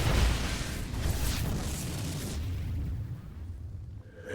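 A destroyed Tal'Darim cannon explodes in the video game StarCraft II, a heavy booming blast that rumbles and slowly fades away.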